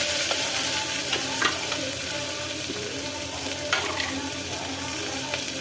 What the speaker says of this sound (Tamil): இப்போ நீல வாக்கில் நறுக்குன ஒரு 2 வெங்காயம், இதையும் போட்டு வதக்கிக்கலாம்.